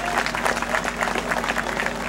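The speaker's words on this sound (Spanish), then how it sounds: "un aplauso también, con mucho respeto a nuestro vecino que se ha ido" An audience at a fiesta claps steadily, a dense, even patter of many hands at moderate distance.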